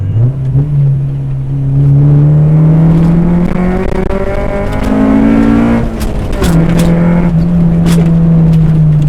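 A loud car engine with Honda VTEC, in a tuned manual daily driver, revving hard, pitch climbing steeply, dropping briefly, then rising again into a sustained high-rev roar.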